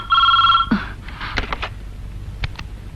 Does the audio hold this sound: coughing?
no